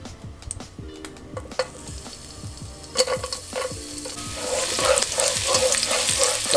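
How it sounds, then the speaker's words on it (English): Two garlic cloves sautéing in a hot pan over medium heat, a crisp sizzle that swells louder toward the end, with sharp stirring taps and scrapes of a utensil against the pan, close up. "we want to saute 2 garlic cloves"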